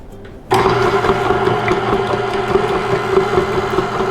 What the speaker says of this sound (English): So I have my mixer with my paddle attachment.